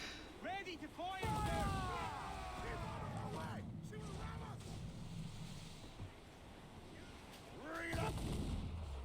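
A pirate ship fires its cannons in a video game, heavy booming blasts that rumble on under a player's excited talking, with a further burst near the end.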